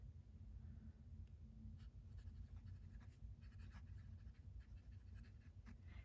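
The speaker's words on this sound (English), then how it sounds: "And then I'm going to write in petrichor." A PenBBS fountain pen with a calligraphy nib writing on paper, giving faint, close scratchy strokes in short, irregular bursts over a steady low hum.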